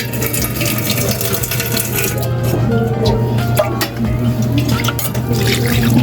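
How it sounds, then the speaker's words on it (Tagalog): Water from a tap runs steadily into a cooking pot holding garlic, bound for a Filipino home-cooked dish, a continuous close splashing fill lasting several seconds with no talk over it. "Dagdagan ko lang muna ng konting tubig."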